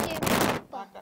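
Firecrackers go off in a rapid crackling burst of loud pops, followed by a quieter tail as a voice murmurs briefly.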